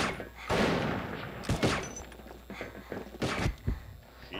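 Gunfire in the online shooter game Combat Arms, with sniper shots: several sharp, loud bursts spaced irregularly across a few seconds, punctuated by thuds and footsteps amid continuous game noise.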